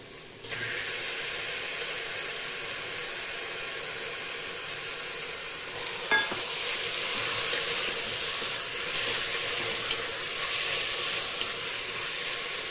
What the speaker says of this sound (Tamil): இந்த மட்டன் வந்து இந்த வெங்காயத்துலையும் இஞ்சி பூண்டுலையும் நல்லா வதங்கட்டும்.